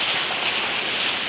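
Rain falling steadily, a dense close patter of drops on a surface, even and unbroken for a moment with no voices.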